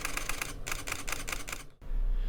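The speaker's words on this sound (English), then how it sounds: "burst mode takes 82 fine JPEG images in 10 seconds" Fujifilm X-T20 mirrorless camera firing its shutter in burst mode, a fast even string of crisp mechanical clicks close to the mic, stopping abruptly before a short quiet handling rumble.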